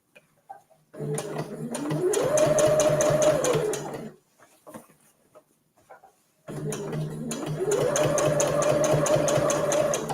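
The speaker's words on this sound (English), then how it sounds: "Lower your stitching speed if you need to get nice, even top stitching." A sewing machine topstitches fabric for a reusable gift bag in two sustained runs, its motor whine rising in pitch as it speeds up, with a quiet gap of small clicks between.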